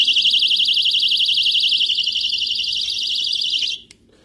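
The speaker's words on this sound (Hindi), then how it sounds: "लेडीज के लिए बड़ी जबरदस्त किस्म का इमरजेंसी अलार्म है जी।" A personal emergency alarm for women sounds a loud, shrill, rapidly warbling electronic siren, steady and close for several seconds before cutting off abruptly.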